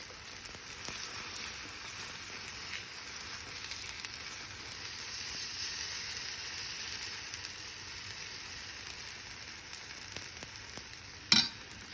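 Ravva dosa batter frying on a pan, a soft, even sizzle held steadily throughout, with a brief louder clatter near the end.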